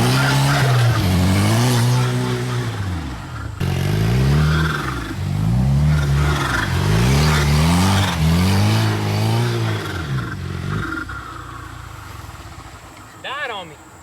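A drift car at a drift competition slides with sustained tire squeal over a wavering, revving engine, loud and close in long overlapping passes that fade toward the end.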